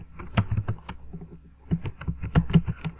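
Brisk typing on a computer keyboard while writing CSS code: two close, loud bursts of rapid key clicks separated by a short pause, with no voices.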